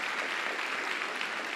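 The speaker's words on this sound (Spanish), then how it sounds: "Un aplauso al Dios del Salmo 23" Applause from an audience at a church Bible class, a soft, steady patter of many hands heard at a distance and fairly quiet throughout.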